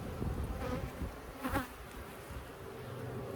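A dense, steady buzz of many bees inside an open hive fills the space close by, with one louder bee passing near midway.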